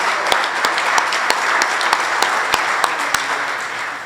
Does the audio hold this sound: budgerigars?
no